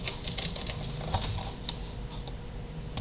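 Quick, light keystrokes on a computer keyboard as a name is typed into a search bar, an uneven patter of clicks heard faintly and close, with no talking.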